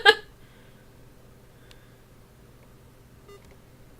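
A short electronic timer beep marks the start of a round in a Mysterium board game session. It comes as a sharp burst at the outset, followed by a couple of faint blips over a low room hum, with no talking.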